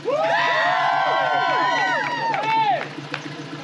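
A car show crowd cheers and shouts loudly for a Cadillac, a dense continuous roar of many voices with rising whoops, sustained for about three seconds before tapering into scattered calls.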